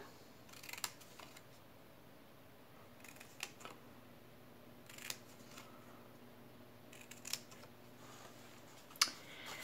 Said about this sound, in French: Donc je vais déjà commencer par entailler tous mes plis.